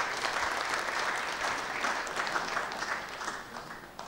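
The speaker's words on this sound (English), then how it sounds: "Please clap for him as he comes up." An audience at an academic keynote on Luke 8:1-3 claps for an arriving speaker, producing a dense, steady wash of applause at moderate distance that holds for about four seconds with no talking.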